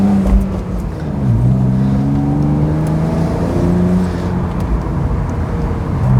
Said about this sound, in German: Man hört nichts außer diesen fabelhaften Reihen 6-Zylinder-Motor